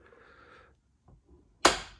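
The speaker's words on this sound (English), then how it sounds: "Oh, it latches really nicely" A faint rustle, a short pause, then one sharp, loud slam that decays quickly, like a car door shutting and latching nearby, on a flood-damaged Porsche 968 under restoration.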